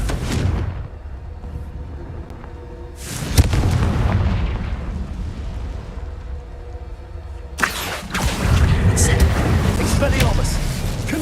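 Confringo spell blasts in Hogwarts Legacy burst with loud booming impacts, three broad explosions spaced several seconds apart, each followed by a rumbling, crackling tail amid game sounds and a voice.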